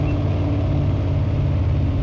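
A truck engine in the video game Farming Simulator 25 drones steadily at a low, rumbling idle, loud and continuous with no talk over it.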